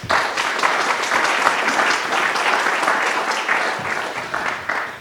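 Audience applause for panelists at a live office-hours event, a loud, dense burst of many people clapping together that continues steadily throughout.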